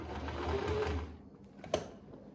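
A sewing machine stitches a welt pocket on a jacket in a close, whirring run that stops after about a second, followed by a quieter pause and a sharp click.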